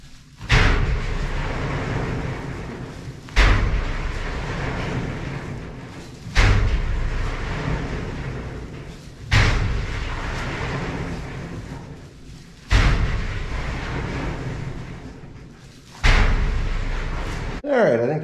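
Heavy thuds of corn silage pitched down inside a concrete stave silo, six loud slams spaced a few seconds apart, each followed by a rumbling decay that rings in the enclosed chute.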